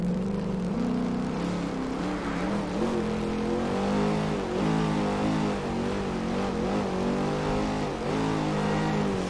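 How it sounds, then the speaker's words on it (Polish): A Dodge Challenger SRT8 accelerates hard in reverse, its engine and gearbox whine rising steadily in pitch over several seconds, loud and continuous with no talk. "No i sprawdzimy jego prędkość maksymalną na wstecznym."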